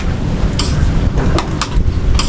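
A thunderstorm pours heavy, constant rain, loud and close, with sharp crackling bursts breaking through the downpour.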